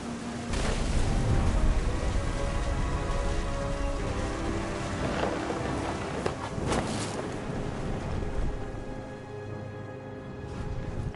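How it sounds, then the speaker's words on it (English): Steady game rain in What Remains of Edith Finch pours continuously on a surface, with a couple of deep thunder rumbles rolling through; no talking. "The thunder sounded much too close and full of angry power"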